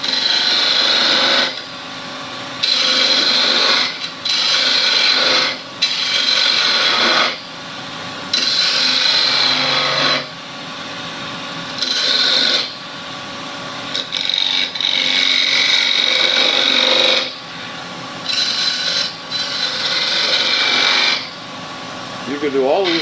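Wooden beads turned on a spindle lathe with a gouge at a woodturners' club demo, repeated bursts of loud rasping cutting noise, each a second or two long, broken by quiet pauses.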